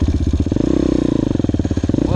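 A 190 enduro motorcycle pulls away in second gear on soft dirt, its engine close and loud with a rapid, steady pulsing throb that builds slightly as it moves off.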